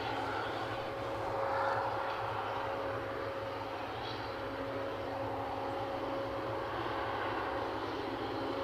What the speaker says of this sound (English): So I can see an EasyJet nudging out.